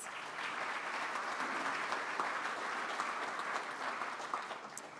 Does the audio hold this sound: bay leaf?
no